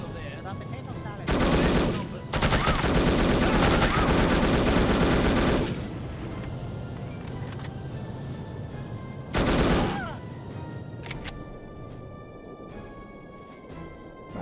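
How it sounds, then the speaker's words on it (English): Automatic gunfire shoots through walls in the No One Lives Forever video game: a loud sustained burst lasting several seconds, a short gap, another long rattling burst, then a brief final volley before the shooting fades. "shooting through walls is so satisfying."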